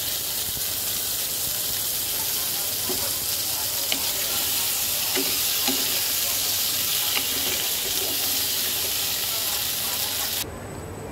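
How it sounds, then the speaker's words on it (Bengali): Boiled potatoes sizzle steadily in the oil left over from frying singi fish, a dense continuous hiss with occasional soft crackles and stirring taps, close and fairly loud, ending abruptly near the close. "মাছ ভাজা তেলের মধ্যে আমি আলুগুলো একটু ভেজে নেব।"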